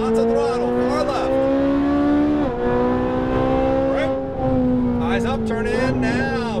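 Ferrari 458 Italia accelerating hard on a race track, its engine note loud and close inside the car, rising steadily with a brief dip as it shifts, then climbing again.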